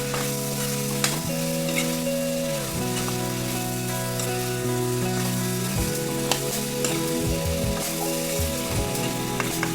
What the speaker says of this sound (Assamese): এতিয়া ধুনীয়াকৈ মছলাখিনি লগতে মাংসখিনি ধুনীয়াকৈ লৰাই দিওঁ।